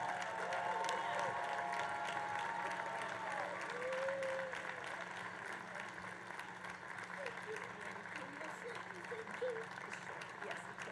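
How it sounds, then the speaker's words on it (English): Large outdoor crowd on a lawn at an evening concert giving a standing ovation, steady distant applause and murmuring voices with cheers rising intermittently. "Can we please stand and applaud Ms."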